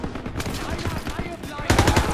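Rapid machine gun fire in Call of Duty WWII: close, rattling bursts under a steady battle din, heaviest near the end, with faint shouting voices mixed in.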